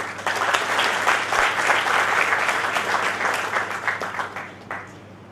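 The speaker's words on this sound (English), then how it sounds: "Please join me in welcoming Sir with a round of applause" An audience at a foundation day ceremony gives a round of applause welcoming a guest, steady full clapping from many hands that tapers off near the end.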